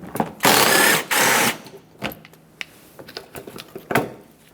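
A power tool whirs in two loud bursts while removing an 8mm headed screw from a 2000–2005 Ford Excursion during front wheel bearing work, followed by scattered clicks and rattles of handling.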